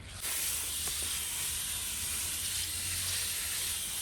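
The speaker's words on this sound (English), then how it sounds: "But the last thing I'm going to do right now is water it in." Water pouring steadily onto a newly planted pink lemon tree in a container, a continuous close hiss-like splash running throughout with no talking.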